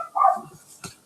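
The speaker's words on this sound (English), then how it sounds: "sorry about the dog barking in the background." A dog gives a single sharp bark, then a second shorter bark, in the background of an indoor room, fairly close and moderately loud.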